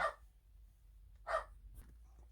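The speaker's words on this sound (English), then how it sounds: "He decided he wanted to bark at the mail lady." A dog barks twice at the mail carrier, sharp barks spaced about a second apart, moderately close, with quiet in between.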